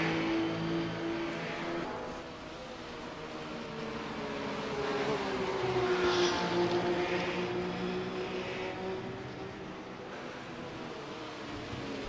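A race car engine at Road Atlanta in a sim racing video game, a steady droning engine tone that rises and falls in pitch as the car laps, moderately loud with no talk.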